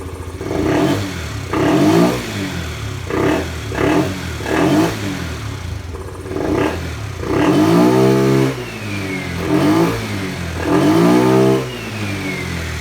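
A derestricted Kisbee scooter engine revs up and down in repeated bursts, with a rising turbine-like variator whine over the motor's drone, close by and loud.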